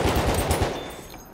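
Madsen light machine gun firing in Battlefield 1, a rapid burst of close, loud automatic shots that tails off into quiet after about a second.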